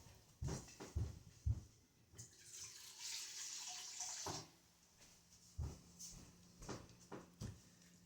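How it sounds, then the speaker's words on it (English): A short stream of water pours into a sourdough starter close by for a couple of seconds, framed by soft clinks and handling sounds before and after. "I'm going to go ahead and add a little bit more water to this"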